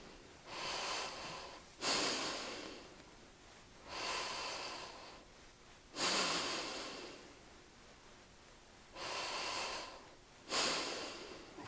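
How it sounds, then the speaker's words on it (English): Diaphragmatic breathing while lightly bouncing on a physio ball: about five strong, breathy exhales and inhales in a steady rhythm, close and fairly loud, with short quiet gaps between them. "You're going to bounce lightly, and you're going to do your diaphragmatic breathing."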